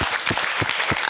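Applause from a conference audience, a short burst of many hands clapping steadily and close, filling the room without any voices on top.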